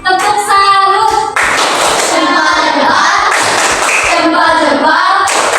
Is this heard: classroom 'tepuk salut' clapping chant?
yes